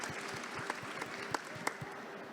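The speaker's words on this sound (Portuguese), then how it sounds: "Palmas." Light applause from a small audience at a poetry event during a book fair, a quiet patter of claps with a few sharper individual hand claps standing out, fading slightly toward the end.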